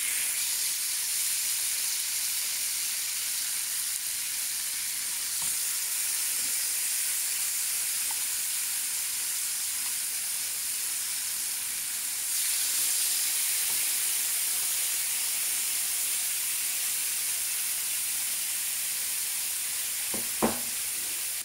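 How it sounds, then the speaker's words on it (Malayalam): Marinated peri peri chicken sizzling on a grill pan over high heat, a steady bright hiss and crackle throughout, close and even, with a few soft clinks and a sharp tap near the end. "ഞാനൊരു ഗ്രിൽ പാൻ ഹൈ ഹീറ്റിൽ റെഡിയാക്കി വെച്ചിട്ടുണ്ട്. അപ്പോൾ നമുക്കിനി ഗ്രില്ല് ചെയ്യാം."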